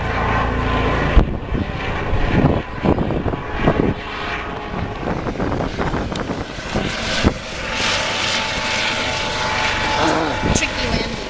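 Helicopter landing on the cruise ship Mariner of the Seas during a medical evacuation, a loud continuous rotor and engine roar buffeted by wind, with people talking nearby over the noise.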